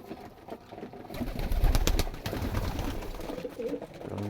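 Pigeons coo in a pigeon house where chicks are kept, with soft, repeated throaty calls and rustling that swell in the middle and then continue more quietly.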